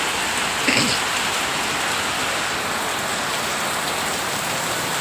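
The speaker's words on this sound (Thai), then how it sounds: "เยอะอยู่นะฝนที่ตกวันนี้" Heavy rain pours steadily, a constant dense hiss of drops hitting surfaces with no talking.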